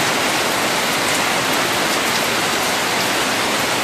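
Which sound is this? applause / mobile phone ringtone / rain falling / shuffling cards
rain falling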